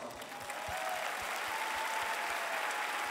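Big arena concert crowd applauding a band's trombonist, dense steady clapping with scattered cheers filling the hall throughout.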